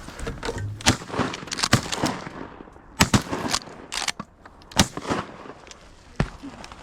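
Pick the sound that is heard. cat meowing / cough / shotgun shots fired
shotgun shots fired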